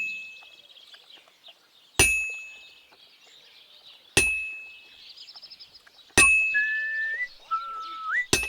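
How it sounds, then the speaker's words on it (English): A character in Kingdom Come: Deliverance 2 whistles a thin, wavering tune while forging at a blacksmith's anvil, with four loud ringing hammer clangs spaced about two seconds apart and the whistled notes rising and sliding between strikes. "I guess he does the whistling automatically."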